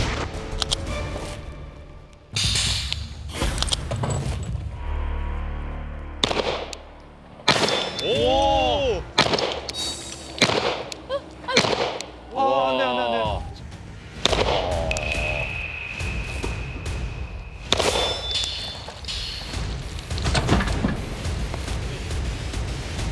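Rifle shots ring out on a military-style shooting range during a competition, with sharp cracks and metallic clangs of hits on steel targets scattered between radio chatter and spoken commands.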